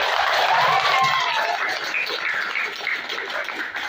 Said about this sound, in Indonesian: tolong tepuk tangan buat demokrasi RMK.